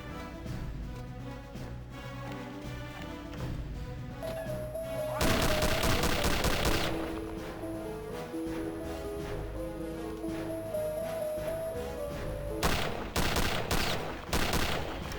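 Gunfire in the game Return to Castle Wolfenstein from a slow-firing weapon: clusters of loud, evenly spaced shots over tonal in-game sound, with a second burst near the end and no talk.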